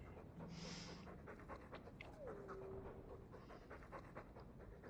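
A guard dog pants in a rapid, steady rhythm in the Dragon Age II video game, soft and close, with faint game tones in the background.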